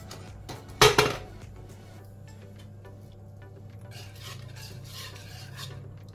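Butter melting in a pan on a home stove while a utensil stirs it: one sharp metallic clank near the start, then quiet scraping and soft sizzling over a low hum, close up and without talk.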